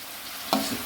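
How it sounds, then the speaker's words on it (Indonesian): Eggplant fries in a pan of hot oil with a steady sizzle, then a sudden close burst of crackle as pieces are stirred or added, alone with no voices. "tujuan kita menggoreng terong"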